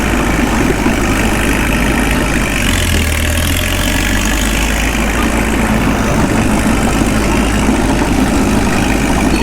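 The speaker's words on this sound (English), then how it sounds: "Gosh, I love this tractor." A Caterpillar D2 crawler tractor's engine runs steadily at close range, a loud continuous low rumbling drone with a brief deeper swell partway through.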